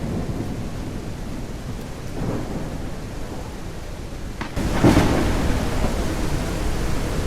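Steady rain hissing throughout in a video game, with a deep rumble of thunder rolling in partway and a louder crack near the end.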